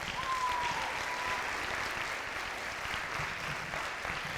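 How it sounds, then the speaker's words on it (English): Steady applause from the audience at a school winter band concert, moderately loud and continuous, with a brief tonal whistle near the start. "how about another round of applause for my wonderful band counselor"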